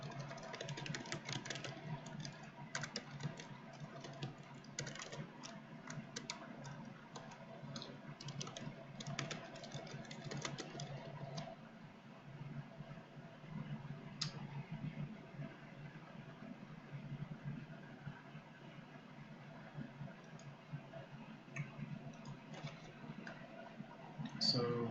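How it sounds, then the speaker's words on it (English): Tarot cards are shuffled by hand in a continuous run of soft, rapid riffling and flicking clicks lasting throughout, close and fairly quiet, with a faint low hum underneath. "I'm just shuffling these"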